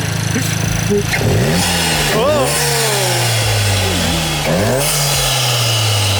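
A Volkswagen MK7 GTI engine with a CTS Turbo cold air intake revs hard and loud, rising and falling through several sharp pulls, with a whooshing intake roar close by.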